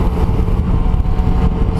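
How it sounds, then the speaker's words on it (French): A Yamaha MT-09 Tracer motorcycle rides on a wet road in the rain, its engine a loud, steady close-up drone mixed with road and wind rumble, no voices. "Bienvenue à bord de la MT-09 Tracer"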